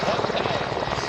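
A CH-149 Cormorant search-and-rescue helicopter with three General Electric T700 turboshaft engines drones nearby at an airshow, a steady rotor and turbine roar under an announcer's voice.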